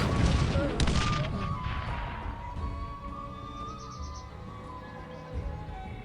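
Cannon artillery fires in the war game Cossacks 3: a cluster of sharp booms at the start, then a long rumbling decay with ringing tonal battle ambience underneath.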